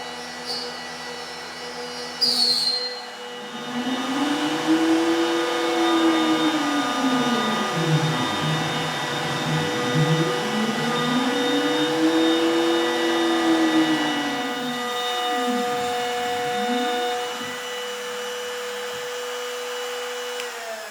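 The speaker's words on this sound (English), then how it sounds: "I attached the shelf material to the bed of the CNC, press play, and hope to the best that nothing bad happens" CNC router cutting holes into shelf material clamped to its bed: a steady machine whine with motor pitch sweeping up and down in smooth arcs as the spindle moves, close and continuous, with no talking.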